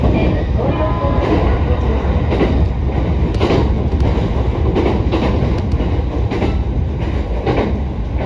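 A Musashino Line train pulls into a Japanese station, loud and close, with rumbling wheels, rhythmic clatter over rail joints and faint squeals as it slows, with no voices over it.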